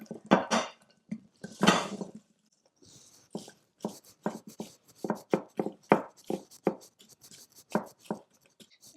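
Ceramic or glass baking dish for an apple crisp set down and shifted about on a counter, a run of light knocks, clinks and scrapes with short pauses, close and moderately loud.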